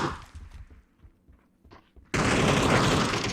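Scattered faint pops and thuds, then an abrupt, sustained burst of loud dense gunfire in PUBG that continues to the end.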